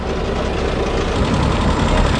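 A Sherman M4A2E8 tank's heavy engine runs at a steady idle, a loud low rumble with a rough, knocking texture and no talk over it.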